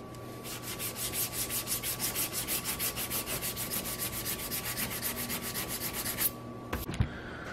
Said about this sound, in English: I'm gonna sand that out, see how deep that is